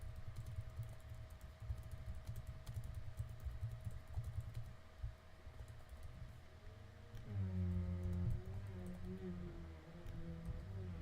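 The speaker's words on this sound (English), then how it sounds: "Hold on, let me type to them." Keys on a computer keyboard clatter faintly in quick, uneven bursts over a low electrical hum and a steady tone, the clicks soft and somewhat distant.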